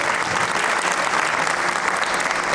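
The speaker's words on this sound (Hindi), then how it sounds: "तालियों के ताल से उनकी अनुमोदना हम करें।" A loud, dense wash of applause from a large gathering on a religious pilgrimage, continuous crowd clapping that holds steady from start to finish with no break.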